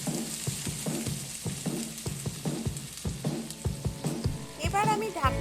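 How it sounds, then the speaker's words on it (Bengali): Water splashing into a hot pan of fish curry with chital fish, a burst of sizzling and bubbling with spoon knocks against the pan, fairly close and steady, rising toward the end. "এবার এর মধ্যে আমি অ্যাড করব পরিমাণ মতো জল। দিয়ে দিচ্ছি জল।"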